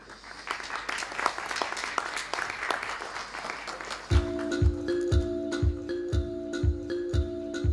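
Conference audience claps for about four seconds to welcome a speaker on NB-IoT deployment, dense close applause that gives way to a rhythmic electronic beat over the room.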